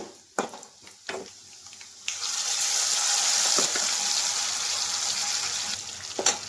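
A couple of sharp knocks, then a loud, steady sizzling hiss as cooked lentils are poured into hot tempering oil and keep crackling close by.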